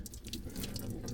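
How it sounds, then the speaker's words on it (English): Engine coolant drips and trickles out of the EGR connection on a BMW E60/E61 3.0 diesel, a continuous close splashing of liquid with watery hiss, steady and fairly loud with no talk. "Coolant will drip out a little bit,"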